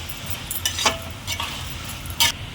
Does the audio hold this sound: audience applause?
no